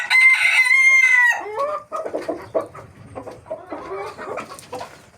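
Chickens being fed a mixed feed on a small farm, a loud nearby rooster crow opening the scene, then a busy stretch of overlapping clucks and squawks from the flock with no talking.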